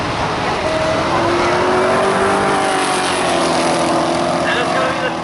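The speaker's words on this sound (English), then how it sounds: "It's a Mobil 1 Corvette. That's a beautiful engine." A Mobil 1 Corvette launches down the strip at a Coles County Dragway drag race, its engine pitch climbing through gears in a loud, sustained roar with a voice faintly over it.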